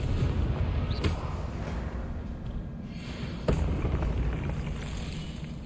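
The Confringo fire spell goes off in the video game Hogwarts Legacy as two sharp booming blasts, one early and one midway, over a dense low game rumble.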